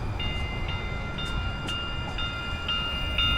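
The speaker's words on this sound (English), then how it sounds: "I'm so excited about this train" A Phoenix light rail train on its track, with repeated high, ringing electronic tones pulsing at a regular rhythm over a steady low rumble.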